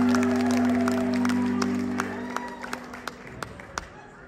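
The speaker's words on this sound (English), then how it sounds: "Give yourselves a round of applause." A concert crowd at a rock show at the Northern Lights Theater in Milwaukee claps and cheers over a held, humming instrument tone, then thins to a few scattered, isolated claps as the applause fades.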